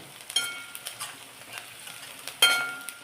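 Chopped onion sautéing with salt in a pan over a medium gas flame, a soft steady sizzle broken by light scrapes and clinks of a spoon stirring against the pan.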